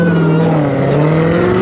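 A Dodge Hellcat engine rumbling loud and close with a deep steady growl that climbs slowly in pitch, continuous with no gaps.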